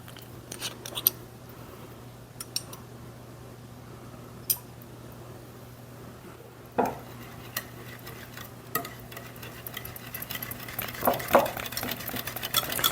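A spoon stirring wet pumpkin muffin batter with vanilla extract in a bowl, faint soft scraping under a steady hum, with scattered light clinks and taps growing busier toward the end, no talking.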